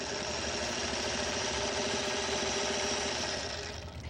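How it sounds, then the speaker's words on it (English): A sewing machine stitches along the diagonal line of a snowball quilt block, a steady, loud, close mechanical whir with a fast rhythmic patter that eases off at the end. "I'm going to sew again on the next diagonal line."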